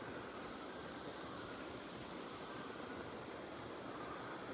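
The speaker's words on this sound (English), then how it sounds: "there's the rushing water you're hearing" Rushing water from a tiny waterfall spilling out of a forest near a lakeside campsite, a steady broadband wash heard from a short distance, continuous and even with no voices.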